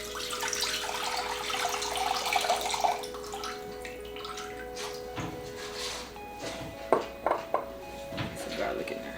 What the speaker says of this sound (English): So now I'm gonna pour all this liquid in here so we can mix it up.